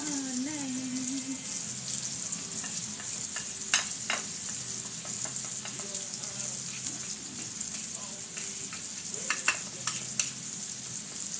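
Pork chops fry in a pan with a steady, close sizzle throughout, joined by occasional stirring clinks and scrapes; a faint voice shows up briefly near the start.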